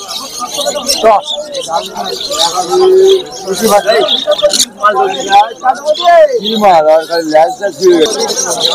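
Pet birds, including budgerigars, chirp and call constantly at a pet bird market in Uluberia, bright overlapping tweets and warbles close by, with someone talking over them throughout.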